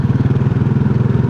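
A scooter engine putters close by with a fast, even pulsing rhythm and a throaty low drone. It rides up from behind on a road, loud and steady with no voices.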